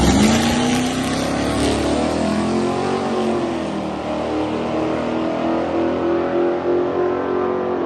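Drag car with a tunnel ram engine launching hard down the track, a loud, close, continuous roar whose pitch climbs steadily as it charges away.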